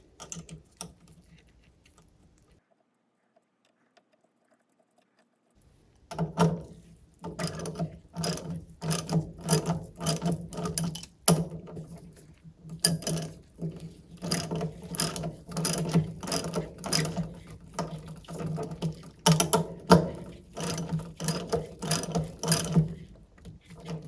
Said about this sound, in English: tighten them with the ratchet and socket